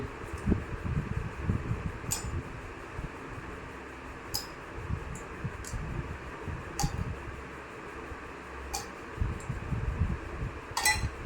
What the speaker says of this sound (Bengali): আইস কিউবগুলো দিয়ে দিচ্ছি আমরা, তো তিনটে